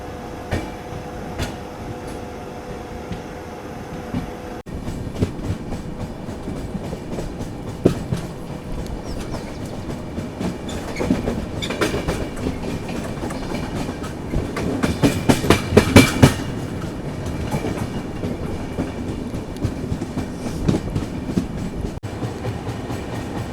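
A 12932 Ahmedabad–Mumbai Central double-decker passenger train rolls steadily along the main line with rhythmic clickety-clack from the wheels, rumbling loudly throughout with a brief surge of rattling near the end.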